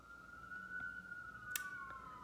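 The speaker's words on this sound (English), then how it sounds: "There's an ambulance going outside." An ambulance siren passes outside, a steady wailing tone that sweeps slowly and carries through at moderate level for the whole stretch, with a brief sharp click partway through.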